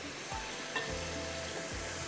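Drumstick kabab masala cooking down dry in a pan, a soft continuous sizzle with a few scraping stirs of a spoon, faint and close, no voices.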